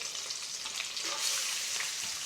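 Rice frying and being stirred in a pan of homemade fried rice with shrimp, a steady close sizzle with soft scraping stirs running throughout, no talking.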